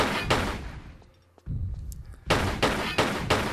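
Gunfire in the video game Tomb Raider 3, a burst of loud, sharp shots at the start, a quieter gap with faint thuds, then several more heavy bursts of shots in rapid succession.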